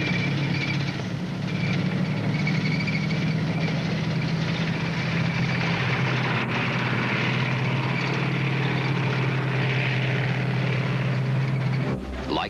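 Propeller engines of a German Luftwaffe bomber drone in a steady, loud, continuous hum with a low throbbing tone, held for about twelve seconds before cutting off abruptly.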